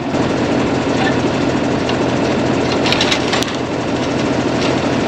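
A grain auger runs loud and close, feeding wheat from small silos into an air seeder with a steady, dense mechanical roar and rattle that barely changes throughout.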